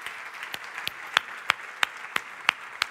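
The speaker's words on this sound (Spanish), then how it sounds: "un aplauso muy grande para vosotros que sois los líderes." At a Spanish-language conference on education and leadership, the audience claps: sharp, evenly spaced claps roughly three per second ring out in unison over a fainter bed of scattered applause.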